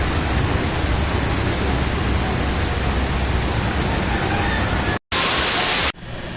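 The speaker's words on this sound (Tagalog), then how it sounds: "Ayan, inday-inday lang yung ulan." Steady light rain falls with a constant soft hiss for several seconds, then cuts off abruptly into a short burst of harsh static.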